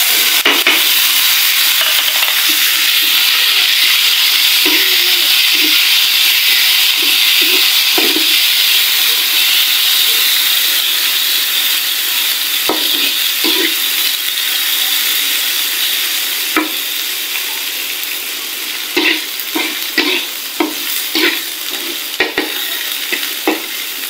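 Black cumin seeds fry in hot oil with browned onion and garlic, giving a loud, steady sizzle and hiss, with scattered stirring clicks and scrapes growing more frequent toward the end.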